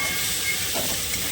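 Eggs sizzle in hot oil with chilli and turmeric powder in a pan, giving a loud, continuous hiss close by with no talk.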